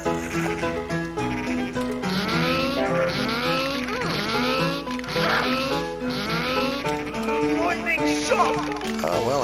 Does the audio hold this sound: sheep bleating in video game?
yes